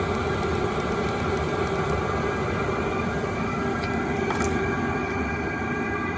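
A Chinese diesel heater runs continuously outdoors beside a truck, its exhaust giving a steady, fairly loud broadband whoosh and drone with a faint hum, unchanging throughout and free of speech.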